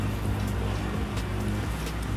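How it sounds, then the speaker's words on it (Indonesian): Steady rain falls outdoors in a continuous dense hiss of drops on surfaces, with scattered louder patters, even and close throughout with no talk. "kena hujan."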